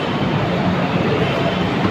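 Light rail train at an LRT station near Monumento rolling past, a steady broadband rumble with rail clatter, loud and close throughout without any talk.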